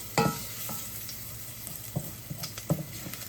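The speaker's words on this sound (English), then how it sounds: "what we want to do is kind of infuse this oil with the garlic and cook the garlic a little bit" Garlic frying in oil in a pan, a steady close sizzle punctuated by several clinks and scrapes of a stirring utensil, with no one talking.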